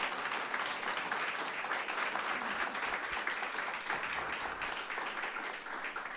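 A church congregation claps together in sustained, steady applause, a dense wash of many hands filling the room without pause for about six seconds, with no talking over it.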